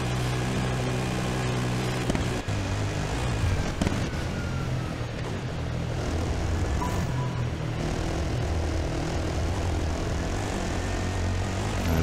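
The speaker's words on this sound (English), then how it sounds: "Helicopter back in frame, what are you doing, helicopter?" A helicopter flies over a desert off-road rally stage during the 2021 Dakar Rally quad class, Stage 10. Its engine and rotor give a steady, loud drone that runs the whole time with no voices.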